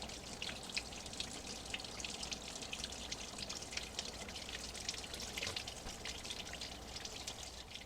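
Water drips and trickles through a Greenstalk vertical planter in a desert setting, a faint, steady patter of many small drops with a soft continuous hiss of running water.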